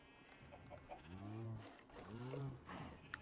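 Two drawn-out low bellowing moos from a cow in Minecraft, each about half a second long, fairly close and clear over faint background noise.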